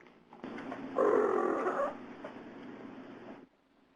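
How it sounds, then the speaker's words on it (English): A domestic cat gives a greeting vocalization: a low, rough, purring-trill sound that swells for about a second, then continues more softly before stopping, close and clear against quiet room noise. "this is one of my other favorite cat noises"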